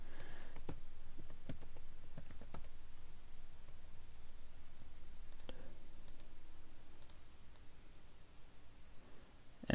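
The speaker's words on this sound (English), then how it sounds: "type something up in there" Typing on a computer keyboard gives soft, irregular key clicks over a steady background hiss, close but faint, with no talking.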